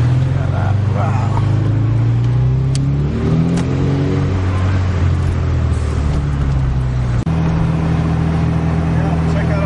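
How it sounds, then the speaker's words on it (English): Steady rumble of cars moving through New York City traffic, engines droning and swelling with occasional revving, fairly close and continuous, with people talking over it. "Yeah, check out all those cars coming in."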